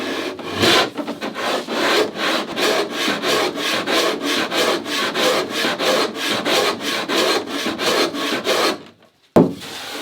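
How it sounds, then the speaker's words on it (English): Steady back-and-forth rasping of edge tools shaving wood on the deck of an International 2.4mR sailboat, regular strokes roughly three per second, close and loud, ending with a brief pause and a knock. "I gotta give this a bit more work with the edge tools just to reduce some mass"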